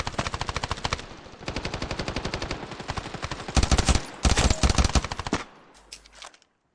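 Rapid bursts of AK rifle fire from the mobile shooter game Standoff 2, loud sustained automatic volleys with short pauses between strings of shots, alone without talk.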